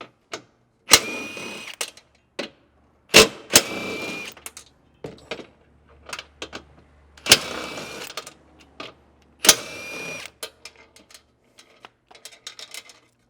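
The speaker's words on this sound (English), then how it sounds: "we're going to remove these four 13mm bolts" Four 13mm bolts coming out of a Jeep JK/JL/JT front bumper, heard as bursts of a power ratchet or impact driver whirring in short runs, several louder spins separated by quiet gaps and lighter clicks, with no talking.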